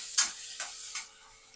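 Spices roasting in oil for a Ghati-style mutton masala, heard as three short sizzling bursts from a few stirs, each fading quickly into a low, quiet hiss.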